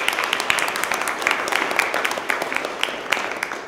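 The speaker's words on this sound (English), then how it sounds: "give yourselves a round of applause for being here" A crowd at a community teach-in event claps together, the applause moderately loud and continuous, with some individual sharp claps standing out from the steady wash.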